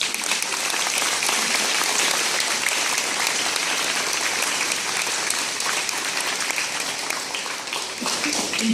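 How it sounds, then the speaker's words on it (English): Sustained, loud applause from an audience at a fifth grade recognition ceremony honoring teachers and staff, a dense steady clapping that continues without pause throughout. "So let's give them a round of applause."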